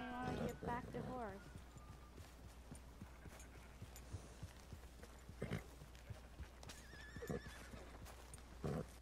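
Horse whinnies and hoofbeats from Red Dead Redemption 2: a loud neigh opens, followed by scattered clip-clopping hooves, another neigh near the end, and voices talking faintly underneath.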